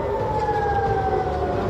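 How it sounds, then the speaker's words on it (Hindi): Air raid alert sirens sounding in Tel Aviv during a missile attack, a steady wailing tone holding at a distance under a low background rumble. "हालांकि बताया गया कि मिसाइल अटैक का असर इतना जोरदार रहा कि राजधानी तेल अवीव में भी अलर्ट सायरन बज गए।"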